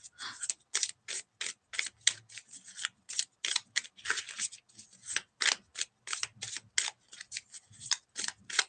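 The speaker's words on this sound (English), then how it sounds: "These cards are a little hard to shuffle." Oracle cards being shuffled by hand, a long run of quick, evenly spaced crisp riffling snaps and flicks, close and fairly loud, with no voice over them.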